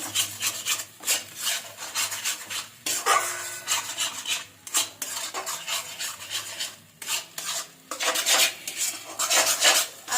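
A spatula steadily scrapes and rubs spice masala around a pan for pointed gourd dolma, a continuous rasping, rhythmic sound that stays close and fairly quiet with brief gaps, and no one talks.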